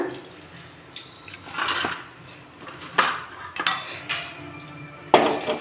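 Metal utensils clinking and tapping against a pan while chana dal is tipped in, several sharp irregular clinks and scrapes, close and fairly loud against a quiet background.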